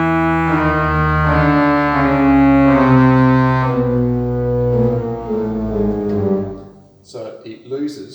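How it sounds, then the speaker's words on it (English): An 8-foot trumpet reed stop on a church pipe organ's pedal plays a sustained, brassy chorus of chords, loud and steady before fading out, with brief talk at the end. "trumpet is also available on the pedal, so it's available on the swell and the great and the pedal at 8-foot pitch"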